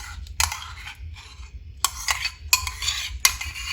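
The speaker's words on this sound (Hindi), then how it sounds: "अब इनको अच्छी तरह आपने मिक्स कर देना है।" Bitter gourd and onions mixed with whisked yogurt are stirred in a pan, giving a few bursts of close, clattering spoon scrapes and clinks separated by brief quieter pauses.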